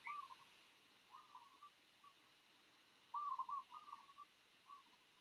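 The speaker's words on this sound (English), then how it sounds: "Those are birds" Birds call in short, faint chirping bursts outdoors, with scattered calls early and a busier cluster of chirps midway, over near-silence.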